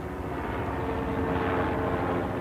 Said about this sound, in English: The sound of a chopper, even over Manhattan, still gets his attention.